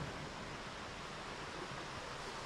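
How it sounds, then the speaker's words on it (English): Small waterfall on a river in Michigan's Upper Peninsula, a steady broadband rush of falling water, close and continuous with no talk. "Small little waterfall right here."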